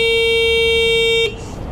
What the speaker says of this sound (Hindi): इधर में आपको हॉर्न मिल जाता है